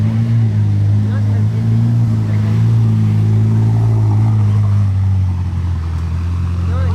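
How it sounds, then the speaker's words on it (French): A Ferrari SF90 supercar still on cold start pulls away from a hotel, its engine a loud, steady low drone that holds throughout with slight pitch wavering, no clear voices over it. "Ferrari SF 90 part de l'hôtel de Paris, elle est en call start-up encore, elle fait un gros bruit"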